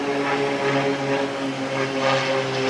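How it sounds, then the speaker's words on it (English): A propeller airplane drones overhead through the whole stretch, a steady, moderately loud engine hum with harmonic tones, heard on a street in New Orleans with no talk. "There's always a plane flying when you're trying to film."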